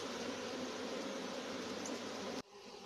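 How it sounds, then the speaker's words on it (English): A dense, steady buzz of many honey bees from a caught swarm fanning at a hive box entrance, loud and continuous up close, then cutting off abruptly near the end. "now they're at the entrance, fanning away"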